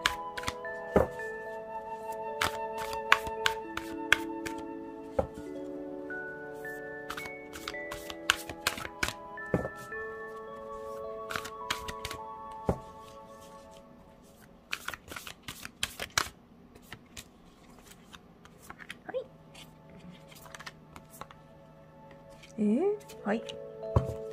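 Tarot cards being shuffled and laid down, giving repeated soft riffles, slaps and taps at close range while someone talks and gentle music plays underneath.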